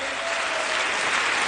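Loud, dense audience applause at a Lucknow business event, a steady wash of clapping from a large crowd that holds level throughout.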